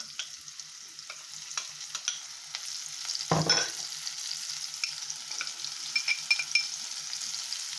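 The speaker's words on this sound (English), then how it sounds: "give it a stir to burn off my curry" Curry powder and leftover curried lamb fry in oil in a pan and are stirred, giving a steady close sizzle with scraping strokes and one louder burst partway through.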